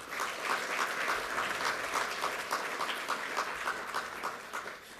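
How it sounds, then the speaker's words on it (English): An audience at a Colorado State University major declaration event claps for speakers, a dense, steady patter of applause that stays strong throughout and eases slightly at the end. "Another round of applause to our speakers, Dr. Bennett and Holly."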